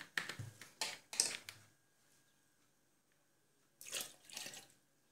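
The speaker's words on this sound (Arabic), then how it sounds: "نضيف واحد الكاس ديال الماء تقريبا 4 لتر" Water is poured in bursts into a homemade juice mixture, about four liters going into a kitchen container. Two short splashing pours are separated by a near-silent pause, and no one talks.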